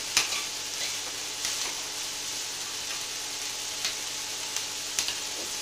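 Veg manchurian sizzles softly in a pan, with a constant faint frying hiss and occasional light clicks of a spoon stirring against the metal.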